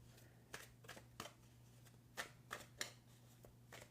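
Tarot cards shuffled by hand in a series of quick, crisp riffling bursts about half a second apart, close and fairly quiet over a steady low hum.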